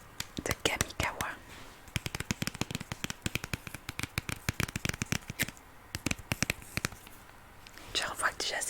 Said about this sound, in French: on va ouvrir un booster collector de Kamigawa